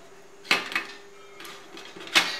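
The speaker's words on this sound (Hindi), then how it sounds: "अब इसे हम निकालेंगे बाहर" A metal pan of steamed dhokla is lifted out of a steamer, giving a few sharp, close metallic clanks and clatters with quieter handling noise in between.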